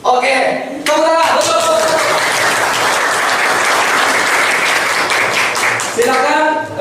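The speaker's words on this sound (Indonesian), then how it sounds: "Oke, tepuk tangan." A classroom of students bursts into loud, dense applause for several seconds, with a teacher's voice briefly audible just before and as the clapping fades.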